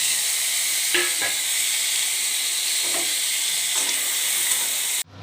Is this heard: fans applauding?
no